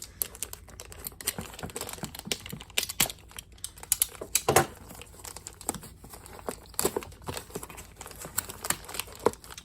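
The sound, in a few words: opening a cardboard box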